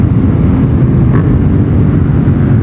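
A Yamaha FZ07 motorcycle fitted with new tires and a fuel controller riding on the street, with a loud, steady engine drone and road rumble close up and no talking.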